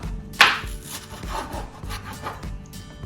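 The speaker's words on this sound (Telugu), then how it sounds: "yellow capsicum and green capsicum కూడా కట్ చేసేసుకుందాం" A kitchen knife slices yellow and green capsicum on a cutting board for chilli paneer, with one sharp cut followed by a run of soft, scraping strokes close by.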